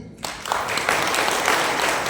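A seated audience at a Bhagavad Gita spiritual discourse bursts into applause after a brief quiet moment. Loud, dense clapping swells quickly and holds steady to the end.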